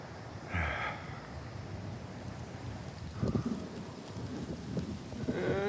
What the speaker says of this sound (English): Just in time for the rain